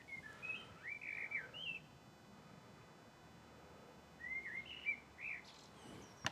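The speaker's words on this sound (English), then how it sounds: "It sounds like a robin, I think." A robin sings two short phrases of bright, warbling notes, a few seconds apart, against a quiet outdoor background.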